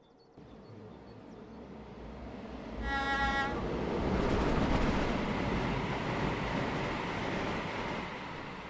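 A simulated train rolls across a crossing on the Liberec to Stará Paka route, its low rumble building to a steady loud roar with a brief burst of high ringing tones partway through.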